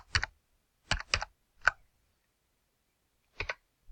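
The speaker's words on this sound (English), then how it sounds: "you're going to type in your class code" Keys on a computer keyboard are tapped in short bursts as a class code goes in: a quick cluster of clicks, a pause, then a final single keystroke. The keystrokes are close and crisp in an otherwise silent room.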